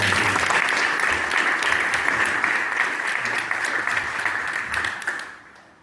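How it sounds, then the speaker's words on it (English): A live audience at a conservation talk on the Great Springs Project and Comal County applauds steadily and loudly, a dense wash of clapping that holds for several seconds before fading out at the end. "So let's give him a round of applause"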